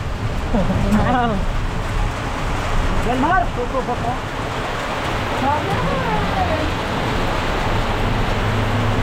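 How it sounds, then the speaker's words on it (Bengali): Heavy rain pours down outdoors beside a parked bus during a storm, a steady dense wash of noise running the whole time with a voice talking over it. "সেই লেভেলে বৃষ্টি হচ্ছে বন্ধুরা"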